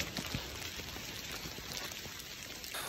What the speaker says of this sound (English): Keeps pouring down rain.